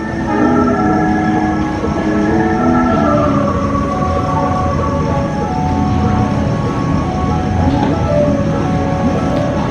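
The Serayu passenger train from Jakarta Pasar Senen to Purwokerto rolls into Kiara Condong station, a loud steady rumble of wheels and carriages with a sustained horn tone over it.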